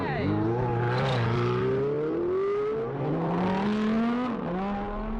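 Loud, close engine note from a supercar on a road in the Emirates, its pitch climbing and sweeping through a sustained rev across several seconds, with a brief dip near the end before it rises again.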